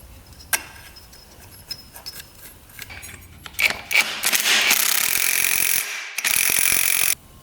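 Ratchet tightening a nut on a dirt bike, scattered clicks building into a rapid, loud ratcheting burst, close by, with no talking.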